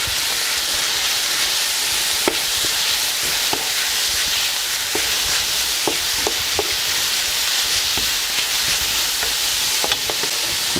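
Carrots stir-fried in a hot pan for a chicken stir-fry give a steady, loud sizzle and hiss, broken by scattered scraping knocks of the utensil as they are stirred, with no talking.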